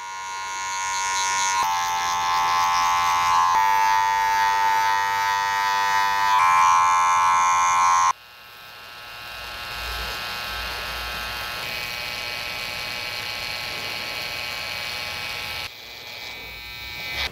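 Electric hair clippers buzz close up while a barber cuts a skin fade and smooths the blend, giving a continuous high whine that shifts in pitch and loudness as the clippers press and lift from the hair.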